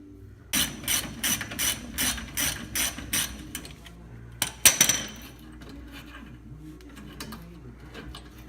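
Ratchet wrench on steering brace bolts of a Dodge Ram, working in a steady run of sharp clicking pulls, then a clatter of metal parts and softer scattered clicks, close and distinct.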